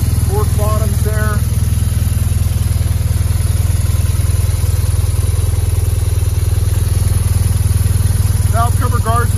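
A 2010 BMW R1200GSA boxer-twin motorcycle idles steadily and loudly up close, with someone talking over the constant engine throb at the start and end.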